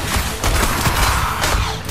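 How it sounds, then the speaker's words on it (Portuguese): Rapid bursts of gunfire from the Strider video game on PS4, dense and loud, crackling continuously for two seconds without a break. "Eu tô levando tiro pra tudo quanto é lado aqui."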